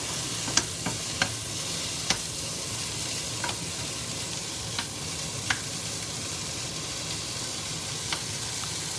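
Boeuf bourguignon sizzling and simmering in a pot, a constant soft hiss of frying with scattered sharp pops and crackles spread irregularly throughout, close and steady.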